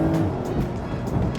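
Porsche 992-generation 911 sports car taken tightly into a corner under throttle, a steady engine drone close by running through the whole short stretch with no talk.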